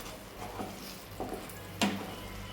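Spinach paste frying in a pan for palak paneer, a soft sizzle under a few scraping stirs of a spoon, close and fairly quiet.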